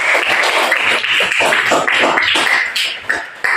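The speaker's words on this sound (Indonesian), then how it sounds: "tepuk tangan buat kelompok satu yang sudah menjawab pertanyaan" A classroom group applauding with dense, rapid clapping at steady loudness, tapering near the end.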